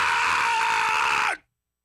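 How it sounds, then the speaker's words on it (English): A person screams out loud in prayer, one sustained and intense cry that holds steady for over a second and then cuts off abruptly into silence. "why do you need to scream?"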